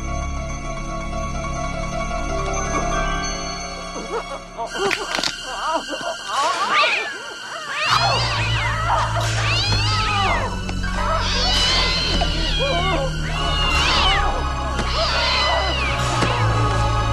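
A cat meows repeatedly in a dramatized horror scene, its drawn-out, wavering cries rising and falling in a loose series over a steady low background hum and other sounds.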